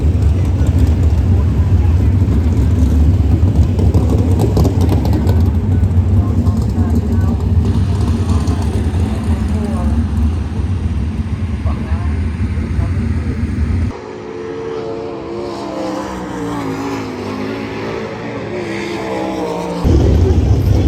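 Dirt track race cars warming up at Big Diamond Speedway make a loud continuous engine roar for most of the stretch, shifting to a rougher, fluctuating drone midway, with voices faintly present.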